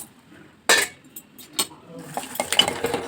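Roasted peanuts being stirred into hot jaggery syrup in a pan, with irregular scraping and clinking of a spoon against metal in short, close bursts.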